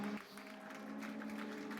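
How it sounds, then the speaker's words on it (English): Applause from the audience at a Mercedes-AMG Motorsport eRacing competition final, saluting the pole position winner. The clapping is steady and moderately faint, mixed with a sustained tonal hum from the venue's sound system. "maybe a big round of applause for Kevin Sigi-Rebernak"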